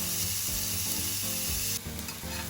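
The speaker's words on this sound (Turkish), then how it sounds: "Baharatlama işlemini yaptıktan sonra etimizi kızgın tavaya alıyoruz" Seasoned beef ribeye searing in a hot pan, giving a loud, steady, close sizzle with crackling fat that keeps going without a break.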